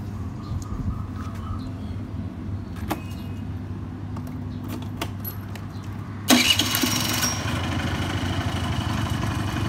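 Low idle hum, then a two-stroke automatic scooter engine cranks and catches around the middle, settling into a loud, raspy buzzing idle that continues to the end.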